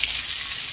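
Chopped onion dropped into hot oil with whole spices for rajma, giving a steady, close, bright sizzle that fills the short moment without pause.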